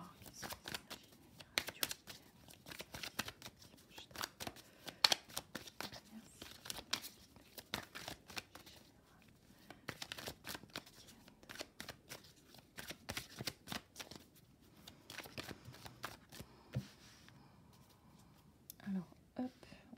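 Oracle cards being shuffled for a weekend tarot-style reading, giving soft repeated papery riffles and slaps in a steady flurry, close and quiet, with a whispering voice faintly in places.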